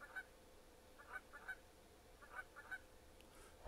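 Swans honk in an endless-migration video game, a few faint nasal honks in small clusters spread over a quiet, even background.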